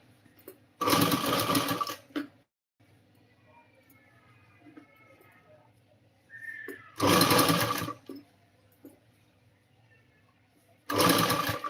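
Sewing machine stitching a blouse in three loud bursts of rapid mechanical whirring, close by, separated by quieter stretches with soft talking.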